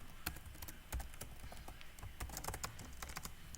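Rapid clicking from typing on a computer keyboard, a dense, irregular stream of close, quiet keystrokes.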